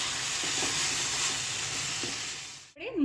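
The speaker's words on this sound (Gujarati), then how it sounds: "હવે આપણે બધું સરસ રીતે મિક્સ કરી લેવાનું છે." A spoon stirring paneer tikka masala gravy after cornflour liquid goes in, a steady close sizzle with soft scraping swirls underneath, ending in a sudden cutoff.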